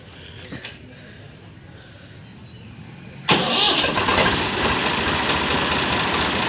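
A Swaraj 735FE tractor engine, recently serviced with radiator water and engine oil, cranks and catches, then settles into a loud, steady diesel run after a quiet start.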